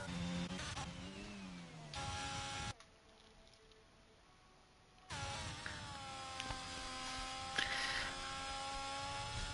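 Racing car engine in F1 22 at the Australian Grand Prix, a loud steady high-pitched whine held at full throttle down the straight, briefly dropping out midway before returning strong and sustained to the end.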